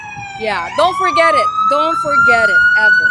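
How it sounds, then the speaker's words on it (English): An ambulance siren on a downtown street wails loudly and close, its tone rising and sweeping steadily while two people talk over it. "so I'm sorry for the ambulance siren"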